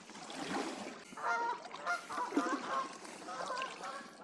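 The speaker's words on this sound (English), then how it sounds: "More geese." Geese on a lake honking in bursts of clustered calls, moderately close and outdoors, with a faint trickle of water and no talk.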